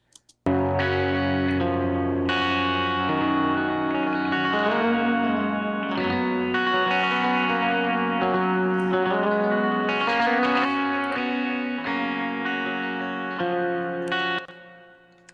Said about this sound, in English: Added delay to the main guitar, and I've also panned it over to the other side.